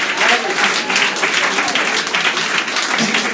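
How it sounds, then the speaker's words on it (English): An audience at a roast comedy tournament semi-final claps loudly and continuously, a dense burst of applause with no break and some crowd noise mixed in. "Clap it up as loud as you can"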